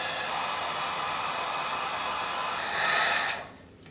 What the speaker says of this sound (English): We're going to shrink wrap this with the heat gun.